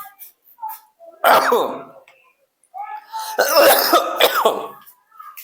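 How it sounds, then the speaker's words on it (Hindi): Two bursts of harsh, throaty coughing close up, each a cluster of rough hacks, separated by a brief pause. "खांसी कैसे हो गया इतना दिन से हो"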